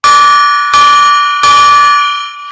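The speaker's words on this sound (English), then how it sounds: "Let's ring the gong 3 times." Gong struck three times in a row, each loud metallic strike ringing out with a long shimmering sustain that overlaps the next, the final tone gradually fading.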